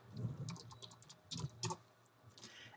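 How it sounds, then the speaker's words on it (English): Light typing on a computer keyboard during a software tutorial, a few quiet clusters of key taps with short pauses between them, heard close and alone. "Hit enter and type ground."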